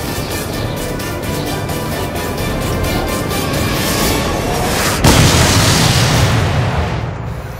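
A weapon strike from a Predator C Avenger drone explodes as a loud, sustained roaring boom, with a sharp burst partway through followed by a heavy rumbling blast that slowly fades.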